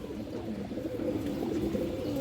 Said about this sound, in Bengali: একটা অনেক সুন্দর মাদি কবুতর আছে মাশাআল্লাহ, কাজ করা কবুতর।